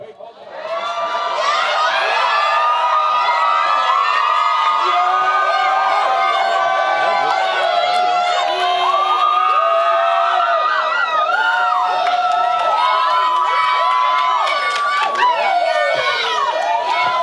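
Graduates at Virginia Union University's 2022 commencement ceremony scream, whoop and cheer together. The roar from the large crowd is loud and unbroken, with shrill yells rising above it for the whole stretch.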